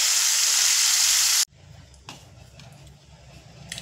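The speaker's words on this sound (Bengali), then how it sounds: "এবার উচ্ছেগুলো আমি খুব সুন্দর করে ভেজে নেব।" Bitter gourd pieces fry in oil over a medium flame with a little salt. A loud hiss cuts off abruptly, then a quieter sizzle follows with a few soft stirring knocks.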